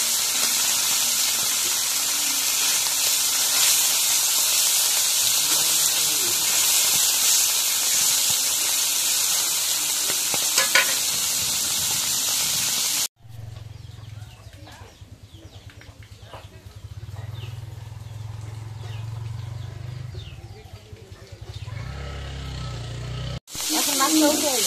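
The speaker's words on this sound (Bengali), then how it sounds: "এখন তেলটা গরম হয়েছে, এখন মাছগুলো দিয়ে দিই" Turmeric-coated fish fry in hot oil with a loud, dense sizzling hiss that fills the first half, then the sound drops to a quieter bubbling under a low hum before the sizzle returns at the end; a voice speaks over it briefly.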